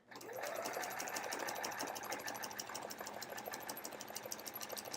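A sewing machine quilts an hourglass block with metallic thread, its needle hammering in a fast, even rhythm that holds steady and close for several seconds without any talk.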